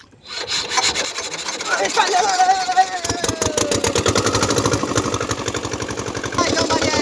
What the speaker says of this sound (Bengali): আমাদের মেশিন স্টার্ট হয়ে গেছে, আমরা চলে যাচ্ছি।